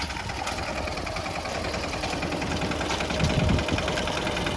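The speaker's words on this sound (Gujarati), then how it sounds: "સૌરાજ ટ્રેક્ટર છે ભાઈ" A Swaraj tractor engine running steadily on a farm during groundnut field work, a close, loud, even mechanical drone with a rhythmic knocking pulse.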